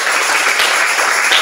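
A church congregation claps hands in praise to the Lord, a steady, dense burst of clapping that fills the whole short stretch at an even, moderately loud level with no talk over it.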